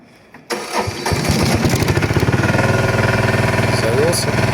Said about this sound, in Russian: Так, ну заводим экскаватор.